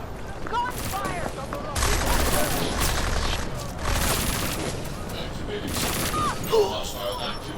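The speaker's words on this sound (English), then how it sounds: "Gunfire!" Gunfire in the video game Deus Ex: Mankind Divided crackles in repeated bursts of rapid shots, several heavy volleys loud and close, with voices calling out between and under the shooting.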